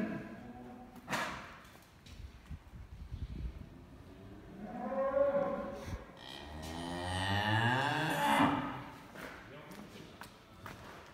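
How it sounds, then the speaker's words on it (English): Cattle on a farm that trades many breeds, such as Hereford and Simmental, low drawn-out moos rising and falling over about ten seconds, several calls overlapping at middle distance with no talk. "So this is a farm for the import, export, all different kinds of cattle and whatever else."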